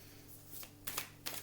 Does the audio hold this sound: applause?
no